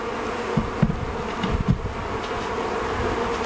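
Honeybees buzz steadily around an open beehive of deep-body frames with black foundation, a continuous close hum with brief louder passes as bees fly near, and no talking.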